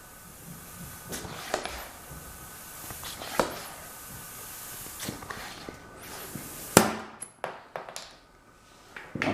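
A homemade Nerf dart tag gun with a small air leak fires darts at bananas, giving several sharp pops and snaps spread through the clip over a faint background hiss, with a cluster of louder hits near the end.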